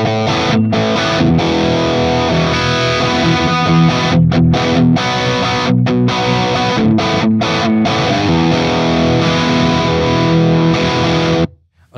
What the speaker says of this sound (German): So, und jetzt habe ich mal in den Overdrive-Kanal geschaltet und hören wir da mal kurz rein.